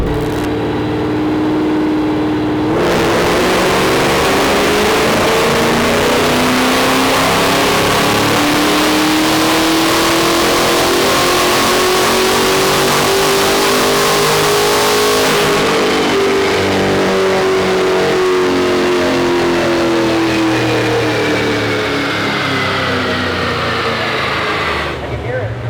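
A tuned Phantom V car engine on a dyno revs hard, its pitch rising smoothly over a long sustained run and then dropping off before it settles back to idle. The sound is loud and close.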